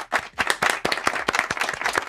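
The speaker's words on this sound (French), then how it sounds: "Kevas, on peut l'applaudir." Brief clapping for a game-show contestant, a few close, sharp claps in a quick uneven rhythm like a small group rather than a large crowd, moderately loud with no talk over it.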